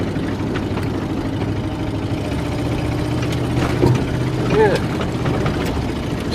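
A car engine idles steadily with a low exhaust rumble throughout, while faint background noises come and go.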